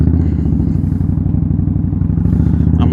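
An Indian Scout Bobber with Vance and Hines exhaust idles close by, a loud, deep, steady burbling rumble with a rapid pulsing beat.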